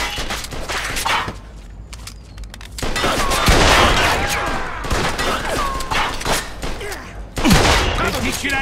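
Heavy gunfire from the Mafia II Definitive Edition crime game rings out as dense, overlapping volleys of close, loud shots, with brief lulls between clusters.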